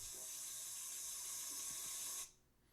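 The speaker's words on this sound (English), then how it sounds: "you can hear the water running in the background." Water runs steadily from a faucet with a bright, hissing flow, then cuts off abruptly near the end, leaving quiet.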